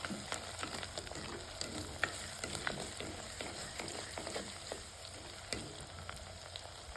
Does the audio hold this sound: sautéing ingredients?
yes